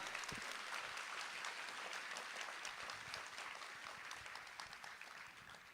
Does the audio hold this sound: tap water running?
no